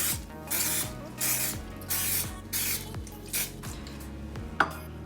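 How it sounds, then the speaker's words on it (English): Cooking spray hisses onto a bowl in a home kitchen during rainbow bagel making, several short close bursts in an uneven rhythm, each with a faint rattle of the can, then a light clink at the end. "So I'm gonna spray one of these bowls so it doesn't stick"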